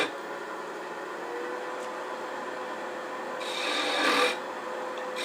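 Sandpaper rasps steadily against a small wooden Nordic gonk ornament spinning fast on a woodturning lathe, over a constant motor hum, with a louder, harsher burst of sanding near the end.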